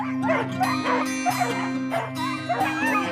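Sled dogs at a long-distance mushing race yip, whimper and bark eagerly in quick overlapping bursts, close and loud, with a constant excited chorus throughout.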